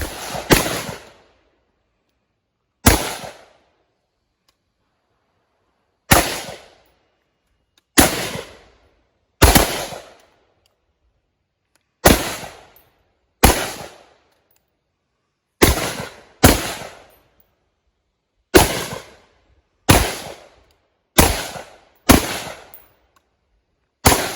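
Pistol shots on an outdoor shooting range during a low-light handgun course, fourteen sharp, loud reports fired singly and in quick pairs with short silent gaps between them.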